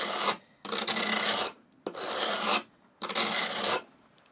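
A carving gouge bevel is run back and forth across a sharpening stone, giving four steady, near rasping strokes with short gaps between them and no talk.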